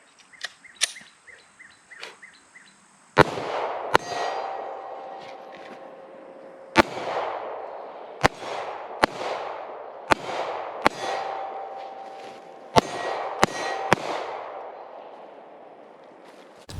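A Glock 48 MOS pistol fires NATO 124 grain ball ammunition: ten sharp, loud shots at uneven intervals, each with a ringing tail, after a few lighter clicks and handling sounds.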